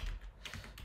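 Quick keystrokes on a computer keyboard as Swift code for an iOS table view is typed, a short run of soft, close clicks over a low background hum, with no voices.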